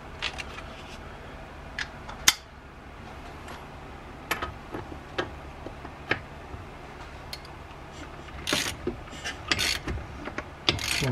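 A ratchet clicks in short irregular bursts while tightening a bolt on a Kawasaki ZX9R motorcycle engine, crisp close ticks separated by pauses, with a busier flurry of clicks near the end.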